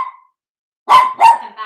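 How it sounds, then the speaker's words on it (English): A couple of sharp dog barks ring out close by after a brief faint yelp, two loud barks in quick succession followed by a softer third, with no talking. "Sorry about the dogs barking"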